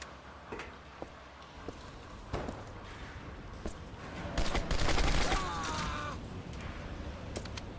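A grenade blows up in the Turning Point: Fall of Liberty shooter, one loud, broad blast with debris trailing off, set among scattered sharp gunshots and clanks of combat.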